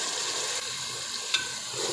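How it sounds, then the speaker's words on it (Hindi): Masala with coriander powder and a splash of water sizzling and being stirred in a pan for aloo pulao, a steady close frying hiss with one brief scrape of the spoon partway through. "अच्छी तरह इस मसाले को भूनेंगे।"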